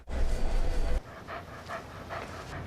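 A dog panting near a pickup truck in a Chevrolet Silverado television commercial, with rapid, rhythmic breaths close to the microphone following a loud burst of broadband noise.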